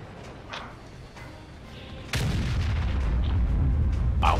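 An artillery shell slams into a group of T-34 tanks in a tank video game, a sudden heavy boom that gives way to a sustained loud rumbling roar, following quieter background battle noise.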